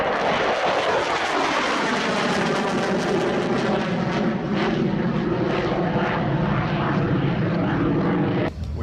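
MiG-29 fighter jet engines powering up in a loud, continuous roar that builds and holds throughout, heard without talk and cut off abruptly at the end.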